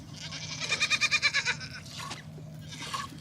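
A skittish goat bleats in a loud wavering cry, followed by two shorter bleats over a low steady background hum.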